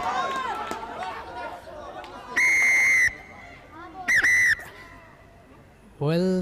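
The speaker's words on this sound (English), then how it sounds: "That was a very loud whistle" Sharp, loud referee's whistle blasts at a schools rugby league match, three long shrill bursts sounding over a busy background of crowd chatter and players' shouts.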